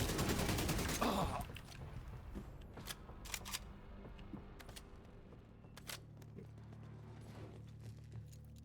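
An airburst weapon fires in a video game with a dense rapid burst of sharp blasts at the start. Sparse, fainter pops and clicks scatter across the quieter remainder.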